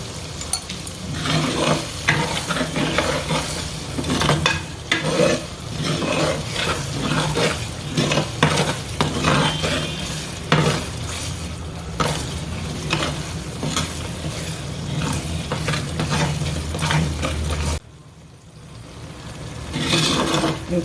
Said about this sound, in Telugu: ఇంకా అడుగంటకుండా ఇంకా తిప్పుకుంటూ ఉండాలి.